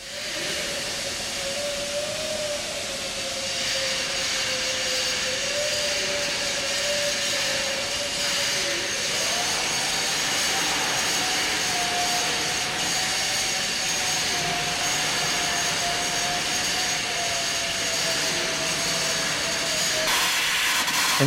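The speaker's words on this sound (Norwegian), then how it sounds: "Innvendig sliping I løpehjulet for en Francis-turbin." A grinding tool works inside the runner of a Francis turbine, giving a constant loud hiss with a steady whining tone that shifts pitch slightly partway through, no voices.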